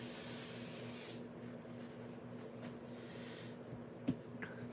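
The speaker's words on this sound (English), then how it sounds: "I'm going to spray this with some pixie spray." Pixie spray adhesive sprayed from an aerosol can onto craft paper, a steady broad hiss lasting just over a second, then fading into quiet room tone with a couple of small handling clicks.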